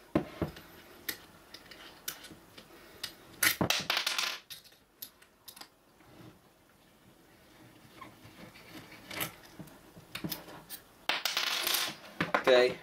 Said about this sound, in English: You can still use the 1/8 Allen key to take these out. Just unscrew these.